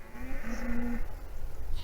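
A cow lets out a single low, drawn-out moo at moderate distance on a wet day, over steady outdoor background noise.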